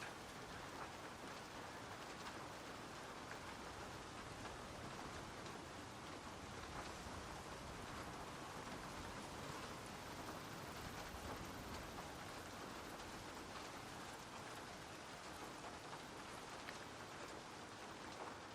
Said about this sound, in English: Nope, it's still raining.